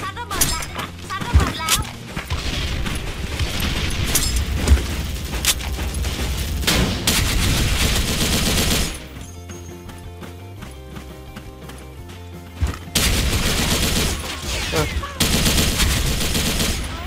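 An RPK74 machine gun with an EOTech sight firing in the shooter game Special Force 2: loud bursts of rapid shots, a quieter pause in the middle, then further bursts near the end.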